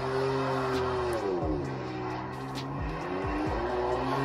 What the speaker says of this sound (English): It was just like doing burnout basically.